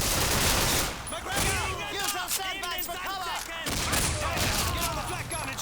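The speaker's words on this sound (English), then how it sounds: "the game forces us to shoot out in different directions" A rapid fusillade of rifle and machine-gun fire from the Call of Duty 2 Assault on Matmata battle. It is loud and continuous, with sharp cracks and whizzing ricochets layered through the chaotic combat mix.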